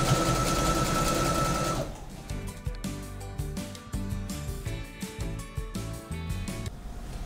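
A sewing machine stitches elastic for the waistband of women's beach shorts, first in a loud steady whirring run and then in close, irregular bursts of rapid stitching that stop and start.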